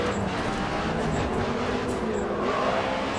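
McLaren race car engine in the Grid 2 racing game, a steady dense roar with tyre and road rumble, loud and continuous with no talk.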